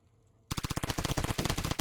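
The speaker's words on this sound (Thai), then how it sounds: "ดักยิงซอมบี้จากข้างบน" Rapid, loud automatic gunfire in the survival game Zombie Raid as zombies are shot from above, a dense continuous stream of shots starting abruptly after a brief quiet moment.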